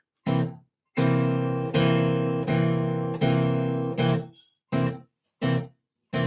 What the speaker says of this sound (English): If I didn't lift my fingers off, it would sound like this.